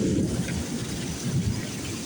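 Heavy thunderstorm rain pours down steadily while a low rumble of thunder rolls underneath, loud and close, with no voices heard.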